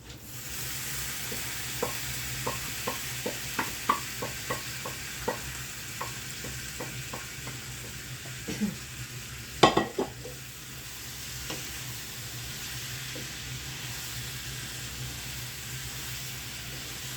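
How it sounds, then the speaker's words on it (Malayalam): A steady sizzling hiss fills the pan as lemon pickle cooks, while a spoon scrapes and taps in a loose rhythm, with a louder clatter midway. "ഇനിയും പൊട്ടിത്തെറിക്കത്തില്ല, ഇനി ധൈര്യമായിട്ട് ഇളക്കാം."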